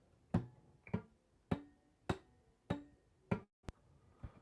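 A short run of palm-muted, fingerpicked guitar notes, about seven even picks with quick decay, each note damped and percussive, alone without voices.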